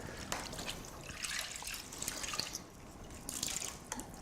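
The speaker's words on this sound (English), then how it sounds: "rinse under fresh running water to remove the initial cleaning solution" A face mask is rinsed under fresh running water from a tap, giving a steady close trickle and splash with faint drips throughout.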